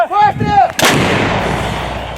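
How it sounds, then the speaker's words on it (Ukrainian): A single loud Ukrainian military artillery blast booms close by, followed by a long rumbling decay, just after a brief shout. "Гармата!"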